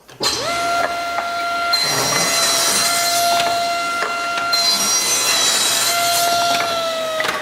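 A table saw rips through wood pieces in two long, loud, steady cuts with a whining blade tone, separated by a brief break as the next piece is fed.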